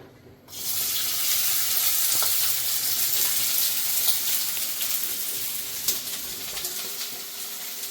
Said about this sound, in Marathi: गॅस पेटवला गॅसवर कढाई ठेवली कढाईमध्ये तेल टाकते हां बस आणि हा कांदा करतो